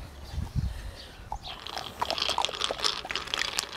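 A dog crunches ice cubes from a bowl in hot weather, with close, sharp, irregular bites and chewing crackles, some brief low thumps first, and no talking.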